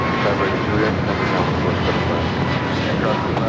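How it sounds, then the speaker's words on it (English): An American Airlines A321neo takes off at LAX with a loud, sustained engine roar and broadband rumble that holds steady throughout. "Next takeoff, heading to somewhere. Flight 2863. It's an American A321 Neo."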